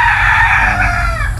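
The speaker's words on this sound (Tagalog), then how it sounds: "yung tilaok ng manok talaga yung kasama mo" A rooster crows loud and close at a quiet solo motorcycle campsite, one sustained call filling the clip with no talk.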